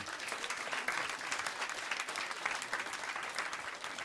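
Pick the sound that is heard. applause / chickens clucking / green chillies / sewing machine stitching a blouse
applause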